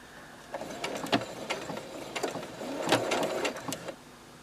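A domestic sewing machine stitches a locking stitch in short bursts of rapid mechanical clatter and needle ticks, moderately loud and close, with brief pauses between runs and no talk.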